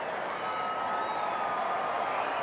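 A restless baseball crowd at a San Diego at Los Angeles game, a broad steady murmur of many voices filling the stadium, even and continuous without distinct cheers.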